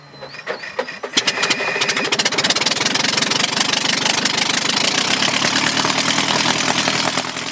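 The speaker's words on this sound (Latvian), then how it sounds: "Vispirms jāpārbauda, vai atjaunotajam cirrus motoram ir pietiekama vilkme, vai tas spēs pacelt zilā putna astīti." A restored Cirrus aircraft engine sputters and catches, then roars into a loud, steady, rough-edged drone that continues close by without talk.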